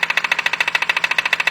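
A BMW engine with about 70,000 km knocks loudly from a faulty crankshaft pulley, a fast, steady, evenly spaced metallic clatter at idle, heard close up with no talking.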